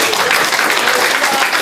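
A church congregation at a divine healing revival service in a village in East Manggarai breaks into dense, loud applause and cheering, a continuous wash of clapping close up.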